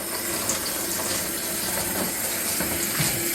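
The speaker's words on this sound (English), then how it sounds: "giving them a good scrub, especially when you're recycling or reusing old seeding trays" Steady running tap water splashing as old plastic seed trays are scrubbed in a sink, a continuous close hiss with small bursts and no voices.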